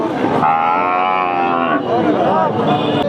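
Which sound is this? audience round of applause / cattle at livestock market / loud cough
cattle at livestock market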